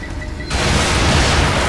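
A grenade blast in the video game The Evil Within, a sudden loud boom that erupts after a quiet moment and trails into a sustained roaring rumble.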